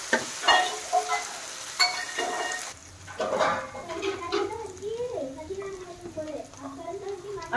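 Onions with ginger garlic paste sizzle and crackle in a pan in a village kitchen, a steady frying hiss broken by stirring clatter, while someone talks over it.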